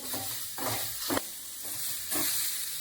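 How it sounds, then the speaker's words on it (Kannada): Onion, curry leaves and green chillies crackle in a tempering while being stirred up and down, a soft continuous sizzle broken by a few scraping strokes of the spoon, nearby and fairly quiet. "ಒಗ್ಗರಣೆಗೆ ಹಾಕಿರೋ ಈರುಳ್ಳಿ, ಕರ್ಬೇವಿನ ಸೊಪ್ಪು, ಹಸಿಮೆಣಸಿನಕಾಯಿ ಎಲ್ಲ ಮಿಕ್ಸ್ ಆಗಬೇಕು ಅಂದರೆ ಈ ಥರ ಮೇಲೆ ಕೆಳಗೆ ಚೆನ್ನಾಗಿ ತಿರುಗಿಸಿ"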